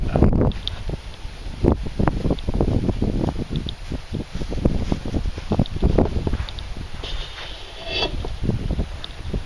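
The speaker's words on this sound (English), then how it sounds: "And it's getting a little windy too," Wind gusts outdoors beside a homemade bamboo water feature, buffeting the microphone with continuous low rumbling and rustling throughout, fairly loud and unbroken.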